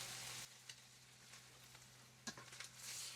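Chicken pieces sizzle in hot oil in a pan, a close, steady frying hiss with a few small pops and one sharper crackle near the end.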